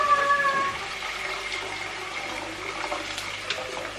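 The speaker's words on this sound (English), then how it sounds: "I'm going to put some boiling water into this pan here." Boiling water poured from a kettle into a cooking pan for dal in a home kitchen, a steady splashing pour heard close up and at moderate level.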